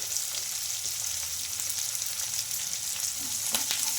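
Chopped onions, green chillies and curry leaves sizzle in a pan as Andhra-style dosa is being prepared, a constant soft crackle with occasional stirring scrapes near the end, no voices.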